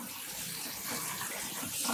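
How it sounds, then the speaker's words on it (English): Water gushes steadily from a tap into a container being filled for dyeing yarn. The stream is a continuous close hiss with no pauses and no talk. "So I'm gonna add some water in here."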